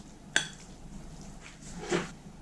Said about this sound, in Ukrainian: Додаю цибулю до фаршу